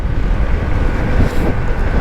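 Strong wind in Bohol, Philippines roars steadily into the microphone in near zero visibility, a dense low rumble with gusty buffeting throughout and no voices.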